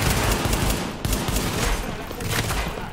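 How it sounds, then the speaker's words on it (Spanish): Gunfire aimed at the player in The Division, a dense, continuous fusillade of rapid shots with brief dips, loud and close, with no talking. "¿Quién me está disparando de ahí?"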